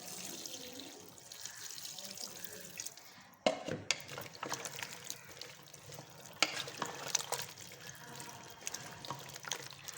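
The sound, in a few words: mixing pumpkin, oil and water in a pot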